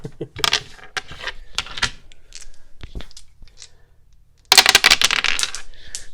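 Dice rattle and clatter across a hard, bare, unlined tray in quick scattered bursts, quieter skittering in between, then a loud final tumble.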